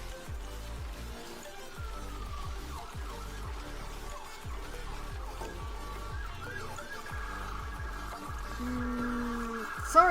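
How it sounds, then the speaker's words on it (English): Police and emergency-vehicle sirens rise and fall in a steady wailing pattern, repeated over and over at moderate level behind a low rhythmic background throughout. "Sorry about the sirens, that's unexpected."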